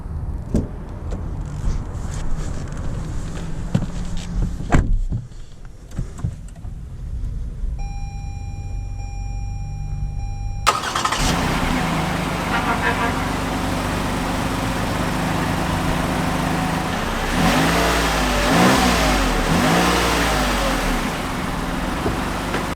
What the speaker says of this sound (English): let's take the RX 350 out to see how it drives